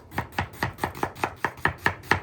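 A knife chops an onion for whiskey steak in about ten crisp, evenly spaced strokes on a cutting board, close and clear with no talk.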